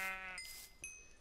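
A sheep in the video game Minecraft lets out a single short, nasal bleat, clear and close, followed by a second brief cry.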